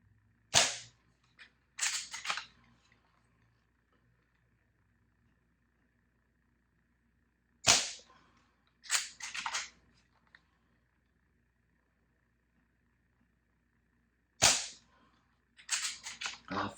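A Benjamin Marauder airgun pistol fires three sharp, snappy cracks several seconds apart, each followed by a short clatter of the target being hit or of the action being cycled, close by and otherwise quiet.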